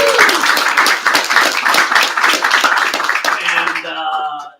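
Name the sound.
applause for the co-host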